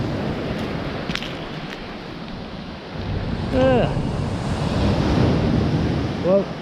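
Surf washing onto a windy Bristol Channel beach during a fishing session, a steady broad rush of waves with gusting wind noise on the microphone, louder swells building around the middle and near the end.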